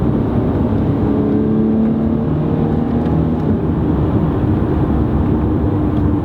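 A Dodge Challenger SXT engine accelerates after a downshift to third gear, a loud, steady, full engine roar that holds for several seconds from inside the moving car.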